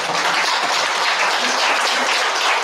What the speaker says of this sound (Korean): 이때 박수 한번 보내야 된다니까